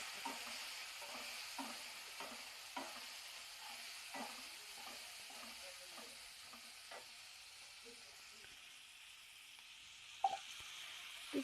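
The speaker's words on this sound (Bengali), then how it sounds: "এরপরে আমি মশলাটাকে খুব ভালো করে কষে নেব।" Spice paste with cumin powder being stir-fried in a pan: a low steady sizzle with regular scraping strokes of a spoon every second or so, near and quiet, then a couple of louder knocks at the end.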